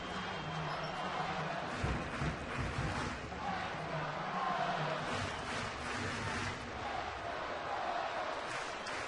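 A big baseball stadium crowd of 24,807 at a night Royals game in Kansas City fills the air with a steady, distant murmur and rumble, broad and continuous without sharp cheers.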